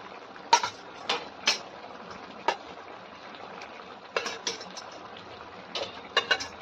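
Boiled eggs added to a pan of simmering egg curry in a home kitchen: scattered sharp clinks of utensil against pan and soft splashy plops over a low bubbling hiss, several spaced knocks.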